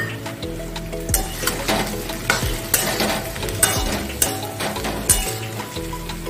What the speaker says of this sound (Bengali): আলুর উপর ঢেলে দিচ্ছি।